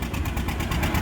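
A 1955 John Deere 80 tractor's engine pounds steadily at a tractor pull in Lafayette, a loud, dense, pulsing drone with a regular throb and no pauses.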